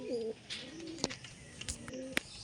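A Madrasi pigeon coos softly nearby in low, rolling phrases, broken by a few sharp clicks and flutters in a quiet setting.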